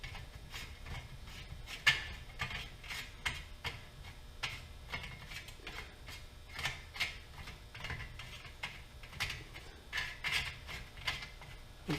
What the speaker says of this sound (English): Got a green leaf hole punch here.